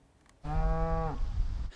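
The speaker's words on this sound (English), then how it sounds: "The herd of beef cattle on this farm in Malagash is being checked on by Carolyn Sheffield." Beef cattle on a farm in Malagash, a single loud, close moo lasting under a second, then low rumbling farm background.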